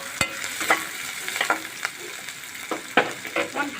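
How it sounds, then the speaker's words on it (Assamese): Chicken pakora fries in a pan with a steady sizzle, broken by a series of sharp scraping and clinking stirs at an irregular pace, close and fairly loud. "অকণমান ভাজিব লাগিব।"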